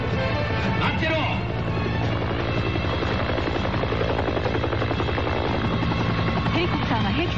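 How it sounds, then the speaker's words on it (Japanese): A helicopter sound effect in a Japanese audio drama chase over water: a steady, loud, rhythmic rotor chop with engine whine throughout, with a voice speaking over it and other effects mixed in. "ヘリコプターが後を追う。"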